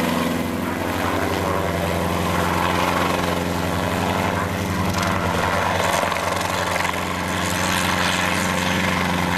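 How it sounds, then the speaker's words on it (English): A helicopter comes in over a remote outback cattle station to muster cattle, its steady rotor thump and engine drone loud and continuous throughout with no talk. "We're only waiting for the chopper to come in to bring the cattle in."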